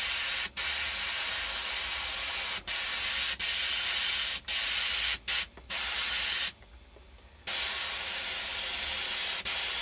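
Airbrush spraying paint onto a T-shirt, a loud steady hiss of air broken by brief cutoffs and one longer pause before resuming.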